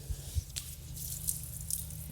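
Water runs through a pressure washer pump and line to clear air bubbles, a quiet steady flow with a few light drips and small splashes over a low background hum.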